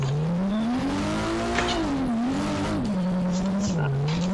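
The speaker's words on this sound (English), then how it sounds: "Alright, so just handbrake it." In the Drift Masters racing game, a car engine whines through shifting revs while tires squeal in a handbrake drift, loud and continuous without any voices.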